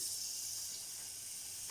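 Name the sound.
butter sizzling in a hot saucepan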